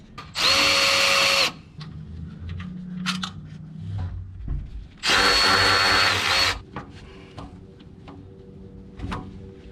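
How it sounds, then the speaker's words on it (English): A power drill removes two bolts during a Grimspeed front-mount intercooler install on a Subaru WRX: two loud, steady whirring bursts of about a second each, separated by quieter clinks and handling noises. "But before we do that, we're just gonna remove these. There's 2 bolts, one right here, one on the other side."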